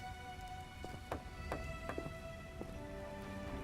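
Rain in The Witcher video game, a steady soft patter of drops on surfaces with a few sharper splashes, heard under game music without talk.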